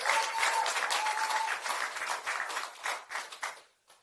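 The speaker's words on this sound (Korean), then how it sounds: "박수 부탁드립니다." A crowd at a South Chungcheong election campaign rally breaks into dense, sustained applause that thins into a few scattered claps and dies away at the end.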